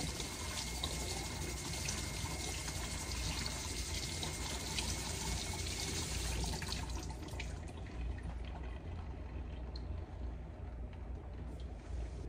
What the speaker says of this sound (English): Then you want to make sure you're rinsing off your beef.